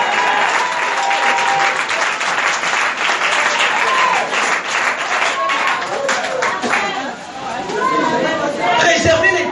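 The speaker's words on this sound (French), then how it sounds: "Si tu vas acclamer, acclame bien." A church congregation applauds and cheers loudly and without a break, with dense clapping under shouts and crowd chatter. The applause stays near and full for the whole stretch.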